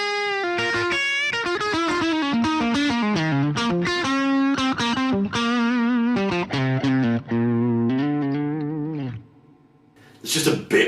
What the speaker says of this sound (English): I've basically added like a blues type overdrive in front of it